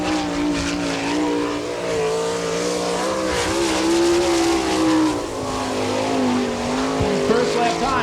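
A sprint car, number 4K, runs a qualifying lap at Attica, Ohio, in an All Star Circuit of Champions Speedweek event; its engine screams loud and sustained, the pitch rising and falling through the corners, while an announcer talks over it.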